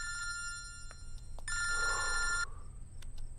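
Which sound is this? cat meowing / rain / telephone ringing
telephone ringing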